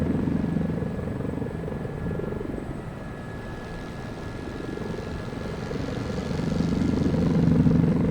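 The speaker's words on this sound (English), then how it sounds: "you saw some amazing chopper action" An Mi-8 helicopter flies in a flight simulator game: a loud, continuous rotor and engine drone that dips slightly midway, then swells again toward the end, with no voices.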